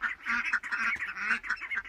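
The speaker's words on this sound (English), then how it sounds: "I can hear the ducks quacking." Several ducks quack rapidly and overlap in a noisy burst, close by, with no talking.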